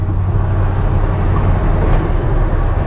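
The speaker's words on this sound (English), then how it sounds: "it's so easy to drive this truck" A Ford F100 truck fitted with a Crown Vic front end and S550 rear drives along with a loud, steady low rumble of engine and road noise that holds without a break, and no one speaks.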